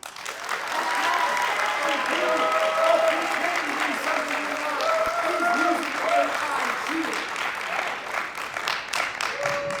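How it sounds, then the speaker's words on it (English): An audience at a fall 2023 AI-themed stage play applauds steadily for about ten seconds, a dense even wash of clapping with a voice speaking over it. "join them with your applause?"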